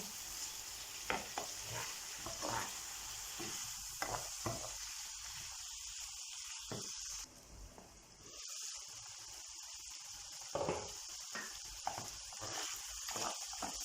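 Liver sauté seasoned with chili flakes and black pepper being stirred in a pan, a steady sizzle broken by scraping spoon strokes, with a short quieter dip partway through and no talking.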